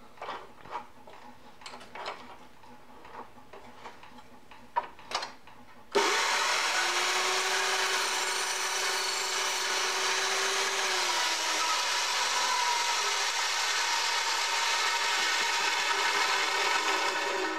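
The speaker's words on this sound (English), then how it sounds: "Might as well cut that off too" A Jepson dry cut saw cuts through stainless steel tube in a workshop. A few light clanks and handling knocks lead into a loud, steady, high whining cut that holds for about twelve seconds.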